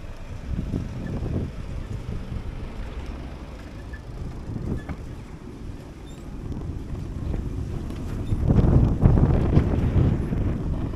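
Steady wind buffets the microphone while cycling through Hulst in the Netherlands on a breezy October day, a continuous low rumble that swells louder near the end, with no talking.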